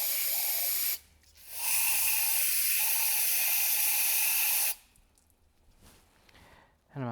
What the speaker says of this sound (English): And I'm going to spray them out to rinse them.